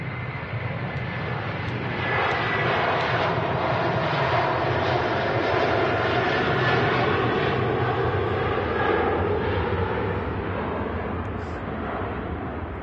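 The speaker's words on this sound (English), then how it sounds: "Awesome to see Turkish Airlines operating the wide bodies on the Istanbul route from Manchester." Turkish Airlines wide-body airliner at Manchester Airport on the Istanbul route, its engines giving a loud sustained roar that swells slightly in the middle and holds steady throughout.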